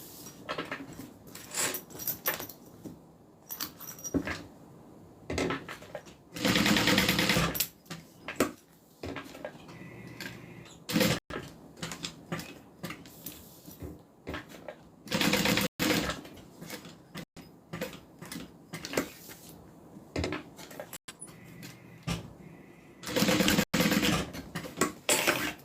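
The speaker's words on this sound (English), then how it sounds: "now I'm going to sew that on." A sewing machine stitches a crossbody bag in short, intermittent bursts of fast mechanical whirring separated by quiet pauses and small handling clicks, heard close and fairly soft.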